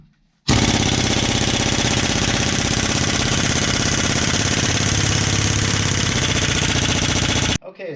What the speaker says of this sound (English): So I've got this impact gun that has 700 pound-feet of torque, and hopefully that's going to be enough to remove it.